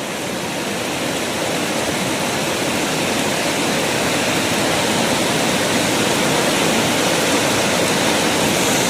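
A mountain river with a strong current roars as a loud, dense, unbroken rush of water that stays steady and close throughout, with no voices.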